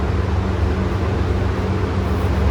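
Steady broadband mechanical roar with a low hum from a paint booth running continuously, loud and unchanging throughout.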